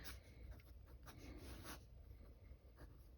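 Vintage Sheaffer Fashion II fountain pen writing large letters on paper, a faint close scratching of nib strokes in short, uneven bursts.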